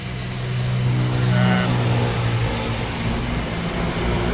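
A Kawasaki NX500 motorcycle engine with a fault runs rough and uneven nearby, its low drone wavering and sputtering with a brief rise in revs, no voices.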